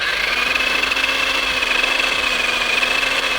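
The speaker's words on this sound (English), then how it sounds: "And there's turbo. You can hear it" An RC skateboard's electric motor running in turbo mode, a loud, steady high-pitched whine that holds constant through the whole stretch, close up and alone.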